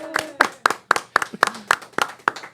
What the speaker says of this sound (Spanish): Un aplauso para Camille, vamos.